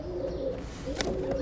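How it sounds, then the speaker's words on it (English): Pigeons coo close by in soft, repeated low calls, with a brief rustle or flutter partway through over light background noise. "I'm legit being attacked by pigeons."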